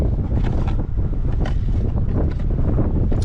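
Strong wind outdoors beside a van roars and buffets the microphone in continuous gusts, a loud low rumble with no voices.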